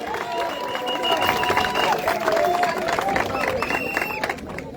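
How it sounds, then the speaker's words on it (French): A general assembly of teachers claps with scattered cheers, and crowd voices and calls rise through the applause at moderate loudness. "On peut applaudir pour sa disposition."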